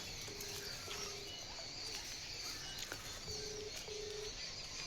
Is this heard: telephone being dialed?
yes